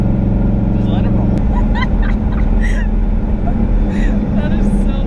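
A 2018 turbocharged Mustang GT making 1,000 horsepower drives along, a loud continuous engine and road roar close up inside the car, while people talk and exclaim over it.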